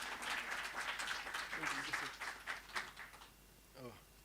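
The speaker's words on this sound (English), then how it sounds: "Let's give him a round of applause," Applause from attendees at an Eskom annual general meeting, a crowd of clapping that thins out toward the end as a voice starts speaking.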